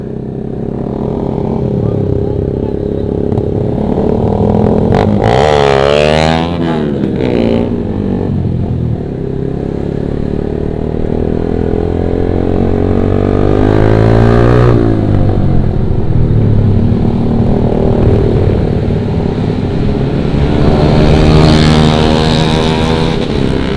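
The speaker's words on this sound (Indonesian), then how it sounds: "suara knalpotnya bising banget anjir" A loud motorcycle exhaust drones and revs during a night ride on Banda Aceh streets, the engine pitch sweeping up and down through several accelerations, with rushing wind and voices talking over it.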